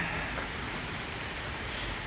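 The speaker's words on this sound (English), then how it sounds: "So I would say this is moderate rain." Moderate rain from a Boston thundershower with big drops, a steady dense hiss of water falling on pavement and a fresh puddle, constant and fairly close with no voices.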